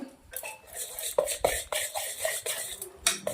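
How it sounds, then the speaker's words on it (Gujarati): Green peas stirred into chickpea flour batter for coriander bread pakoda: a spoon clinks and scrapes against the bowl in quick, irregular strokes, close and moderately loud, with no talk. "હવે આપણે દાણા અને ચણાનો લોટ બંને સરસ મજામાં આવી રીતે મિક્સ કરી દેવાનું છે."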